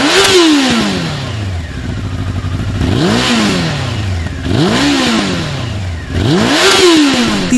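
A first-generation Honda CBR900RR Fireblade sport bike's engine is revved hard four times up close, each sharp rise in pitch falling back toward idle between blips.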